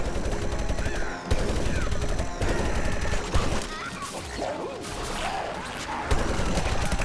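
Rapid corn-cob shots from the BBQ Corn character in Plants vs. Zombies Garden Warfare 2 rattle in fast bursts like machine-gun fire, dense and loud, with brief pauses between volleys amid other game effects.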